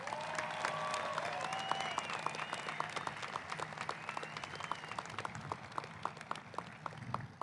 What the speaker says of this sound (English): Let's give them one more well-deserved round of applause.